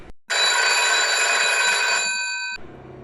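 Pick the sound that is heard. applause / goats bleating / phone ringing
phone ringing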